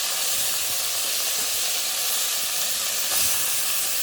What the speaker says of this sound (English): So let's just remove some of the oil from the pot and fry up our saltfish.